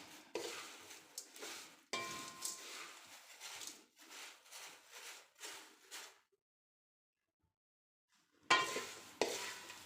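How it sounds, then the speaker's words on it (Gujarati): Nylon poha flakes being stirred and roasted in a pan give off repeated scraping, rustling strokes in an uneven rhythm for about six seconds. A silent gap follows before the stirring resumes close and fairly loud. "આ રીતે મેં બધા પૌવાને શેકી લીધા છે"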